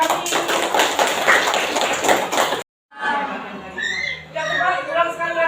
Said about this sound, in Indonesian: Beri tepuk tangan untuk Dani